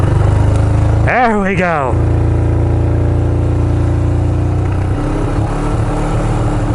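A small engine starts up after its choke is turned up, settling into a steady running drone. A person speaks over it.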